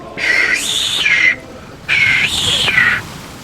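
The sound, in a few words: imitated whistle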